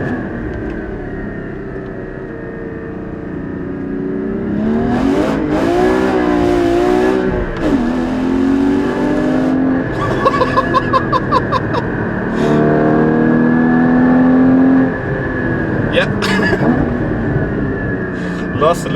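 A Porsche 981 Cayman GT4 of close to 400 horsepower, driven hard on a Black Forest road, its engine revving up and down loudly and continuously through gear changes, with bursts of rising harmonics and brief tire or wind noise.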